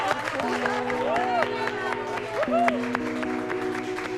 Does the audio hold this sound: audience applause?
yes